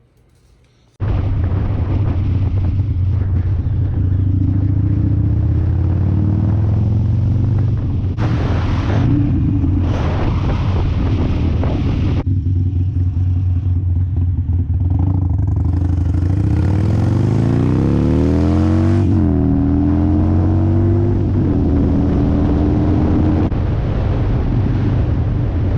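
A Harley Sportster 1200 motorcycle rumbles loud and close while riding, with steady engine drone, rising revs as it accelerates and heavy wind buffeting over the microphone, after a brief quiet start.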